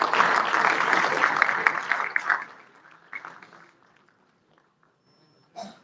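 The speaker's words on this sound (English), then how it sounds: "Let us welcome Sir with a big round of applause" Conference audience welcoming a speaker with loud, dense applause that holds for about two seconds, then thins into scattered claps and fades to near silence, with a brief noise at the end.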